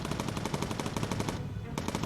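Rapid machine-gun fire from a bomber's turret guns in the Bomber Crew video game, steady rattling bursts that pause briefly near the end before resuming, loud and close.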